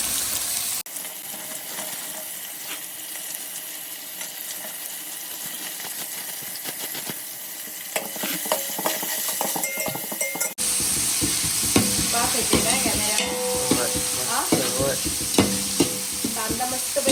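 Onion tossed into hot oil with green chillies, curry leaves and mustard seeds for kande pohe, a large batch for forty people: a steady sizzle with loud scraping stirs, then a sharper, busier fry after the onion drops in.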